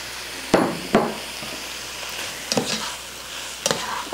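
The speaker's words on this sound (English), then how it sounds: "So we'll add the turkey in." Ground turkey for chili goes into a hot pot and is stirred with onions and garlic, giving a steady close sizzle broken by several sharp utensil scrapes and knocks.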